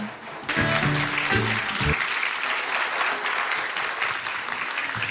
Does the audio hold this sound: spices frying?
no